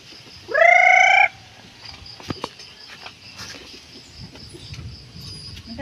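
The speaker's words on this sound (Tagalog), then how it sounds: "Ang dami dito manok." One bright, drawn-out rooster call rings out clearly near a hut where many chickens are kept, followed by scattered faint clucks and farmyard noises.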